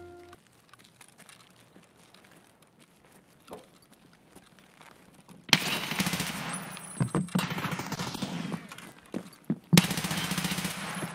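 Automatic rifle in the video game Escape from Tarkov emptying a 60-round magazine, loud sustained bursts of rapid gunfire starting midway and continuing with brief pauses to the end, after a quieter stretch.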